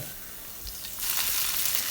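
Chopped ginger, garlic and green chili frying in coconut oil, a steady broadband sizzle that swells louder partway through, close and continuous with no voices.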